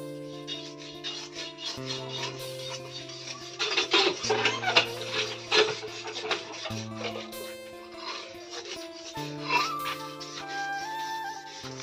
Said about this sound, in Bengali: তো সেজন্য কড়াইটা পরিষ্কার করে নেব।